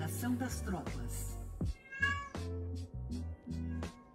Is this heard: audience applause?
no